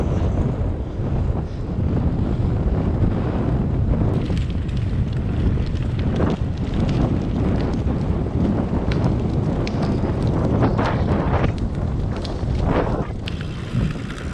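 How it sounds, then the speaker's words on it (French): Strong wind buffets and roars against the microphone continuously during a long-distance bicycle ride, loud and gusty throughout, with no voices. "Toujours ce vent."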